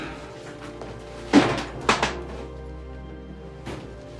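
A top drawer slides open in a crime drama scene, with a sharp wooden knock and rattle followed by a second clatter, then a faint final bump. A quiet room tone sits underneath.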